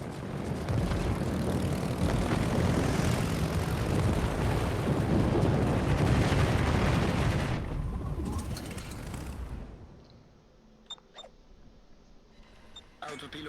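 Aircraft engines roar steadily from planes flying off a carrier in a naval video game, a loud continuous drone that fades out partway, leaving quieter background sounds and brief chirps.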